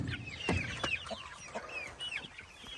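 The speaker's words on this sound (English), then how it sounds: "just feeding chickens" Chickens cluck and squawk in short, faint bursts while being fed outdoors in the rain, several birds calling over soft background noise.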